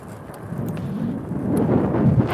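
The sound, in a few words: thunder from an approaching storm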